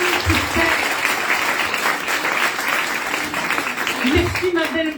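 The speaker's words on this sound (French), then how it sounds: "On applaudit très fort." Audience at a conference in Toulouse applauding steadily and loudly, dense continuous clapping with a few voices briefly rising above it.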